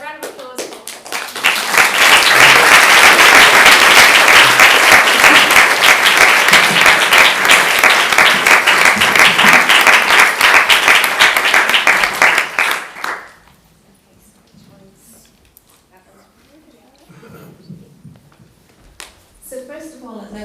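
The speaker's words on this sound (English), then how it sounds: "So, please, a round of applause for" An audience at a talk on the Ebola crisis greets a speaker with loud, dense applause that lasts about eleven seconds and then stops abruptly, leaving a quiet room with faint rustles and some brief speech.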